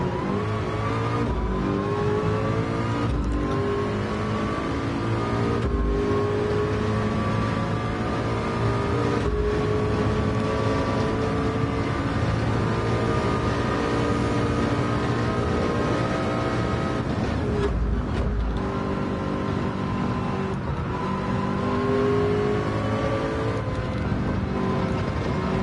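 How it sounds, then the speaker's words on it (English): A race car engine drones loudly and continuously in 24 Hours at Le Mans played in PSVR2, rising and falling in pitch through gear changes and revs, with no talk. "Your car sounds like a leaf blower. Mine sounds like a jet engine"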